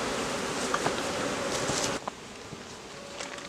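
Honey bees buzz steadily around an opened beehive during a queenless-colony inspection, a dense, continuous hum close by that drops slightly in level partway through, with no talking.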